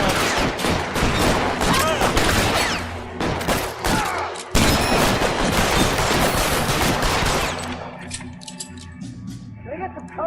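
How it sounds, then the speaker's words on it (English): Dense, loud gunfire shootout in the video game L.A. Noire, with rapid overlapping shots and bursts filling most of the stretch, thinning out near the end, and voices shouting beneath the barrage. "Throw out the guns."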